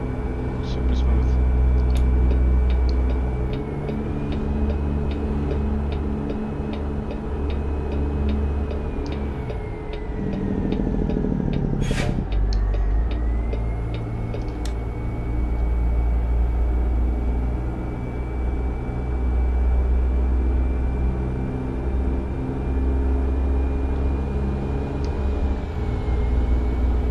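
Steady low drone of a stretched Peterbilt 379 truck engine cruising on the road, loud and continuous with a faint high whine and a brief rising tone midway, no talk.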